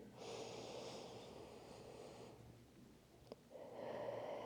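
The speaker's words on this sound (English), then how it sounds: "Let's take one more deep breath in." A deep breath in during a yoga stretch, heard as a long, close, airy inhale that fades, then a brief pause and a second rush of breath.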